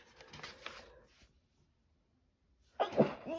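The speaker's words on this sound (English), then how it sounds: "I'm gonna sneeze." A single close, sharp sneeze bursts out near the end after a quiet pause, preceded by faint rustling of paper craft materials at a desk.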